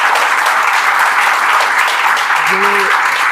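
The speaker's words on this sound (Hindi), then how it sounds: "ताली बजा दी यार।" A group claps in sustained, rapid applause, loud and close, holding steady for the whole stretch, with a brief voice sounding near the end.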